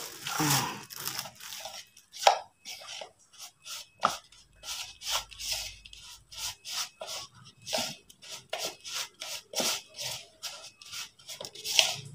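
Fish bait mixture for tilapia being stirred by hand, a steady series of close, rough crunching and rubbing strokes repeating in an irregular rhythm, with no talking.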